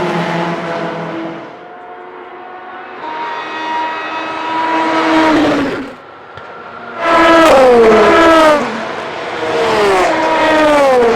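Race cars at the Le Mans circuit in 2022 roar down the Indianapolis straight toward the Porsche Curves, several engines rising and falling in pitch as they pass one after another at a distance, with downshifts and revving.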